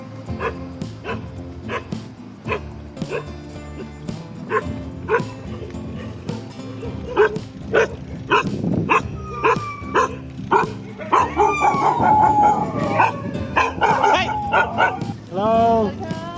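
Several dogs bark and yip repeatedly at a cyclist on a road in South East Asia, loud and close, with whimpering mixed in and a person's voice talking and shouting over the barking.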